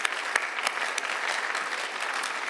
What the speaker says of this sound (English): if we could just give her another round of applause for